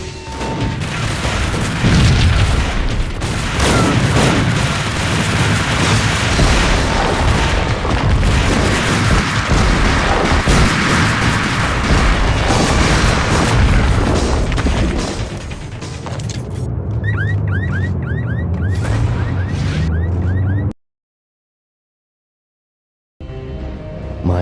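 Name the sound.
gunfire and explosions in video game Max Payne Mobile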